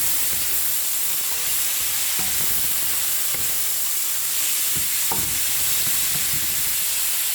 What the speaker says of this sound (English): Then I am going to add my green beans. So simply stir it.